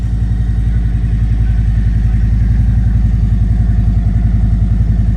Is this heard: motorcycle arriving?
yes